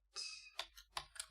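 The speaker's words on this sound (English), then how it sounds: "Okay, I will be typing" Keys on a computer keyboard click in a short irregular burst of a handful of quiet, close taps with brief gaps, alone without talk.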